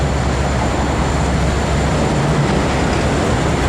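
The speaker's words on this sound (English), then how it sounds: "We can see the trains, hear the trains in the station now" Trains moving through a downtown Chicago railway station, heard from a boat on the river: a loud, steady, continuous rumble of rail traffic with no distinct breaks and no talking.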